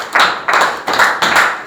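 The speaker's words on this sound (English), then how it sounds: "Give her a big round of applause." Four short bursts of clapping in quick succession, close and fairly loud, like a small group of students applauding briefly in a classroom.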